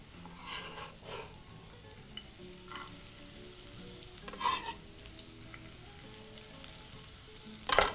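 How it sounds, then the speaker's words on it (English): Onions fry in a pan for a Kenyan vegetable githeri, a soft, steady sizzle with occasional louder scrapes and tosses of a utensil, one sharper clatter near the end, no speech. "we're going to proceed to add onions into the pan"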